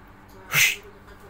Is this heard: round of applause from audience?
no